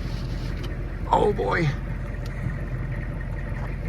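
Blizzard wind with 50-mile-an-hour gusts blows past an open car window in a parking lot in Batavia, New York, a steady rushing roar under a short spoken exclamation.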